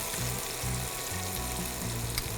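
Sour-sweet jujube chutney, just dosed with turmeric, sizzles in a pan for a Saraswati Puja recipe, a steady close crackle over a low rhythmic hum, with a faint knock near the end.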